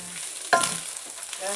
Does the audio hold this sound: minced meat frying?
yes